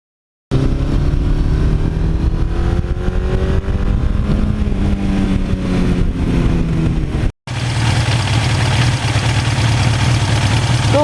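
A 1982 Suzuki GS1100E motorcycle engine idles steadily and close by, a loud continuous low rumble with a brief cut near the middle before it resumes unchanged.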